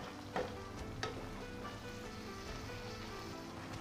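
Seasoned napa cabbage frying in a pan, salted and peppered, sizzles steadily up close while a couple of quick stirring scrapes stand out near the start.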